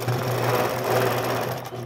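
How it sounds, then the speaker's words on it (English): A sewing machine stitching a quilt block while doing ruler work with a 4-in-1 ruler, running in a steady, loud, close mechanical whir with a fast even needle rhythm throughout, no voices. "then when I sew in, I'm gonna sew right to that point"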